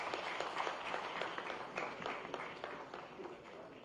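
A round of applause for an official at a government event in Gandhinagar with companies, steady moderate clapping from an audience with no speech over it.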